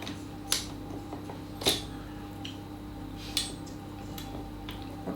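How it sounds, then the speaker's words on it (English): Victoria sponge cake mix is scraped off a spatula against a metal bowl or mixer, giving a few sharp clinks and taps spread across a quiet, low kitchen background. "This is always the most tricky bit, is getting it off the"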